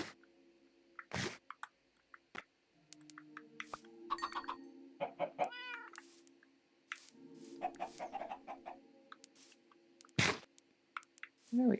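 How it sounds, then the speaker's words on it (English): Chickens cluck in the Minecraft video game, scattered short fowl calls and soft clucks at close range with brief clicks and item sounds between them, fairly quiet overall. "Let's go and feed the chickens"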